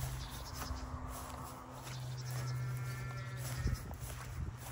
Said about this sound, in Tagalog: Ang daming mga tupa ngayon,